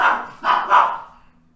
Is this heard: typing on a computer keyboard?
no